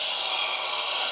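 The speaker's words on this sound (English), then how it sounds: "I can basically just drop this in the wheel and come over here and touch it down and grind it this way" A turning gouge pressed flat against a spinning bench grinder wheel, giving a steady, bright, hissing grind that holds evenly throughout the short stretch.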